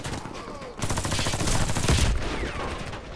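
Loud, rapid automatic gunfire from the Warface shooter game rattles in a dense burst lasting a couple of seconds, with softer shots before and after.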